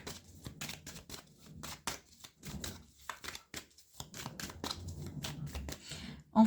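Tarot cards being shuffled and drawn by hand, a run of quick papery flicks and slaps, close and fairly quiet, with no talk.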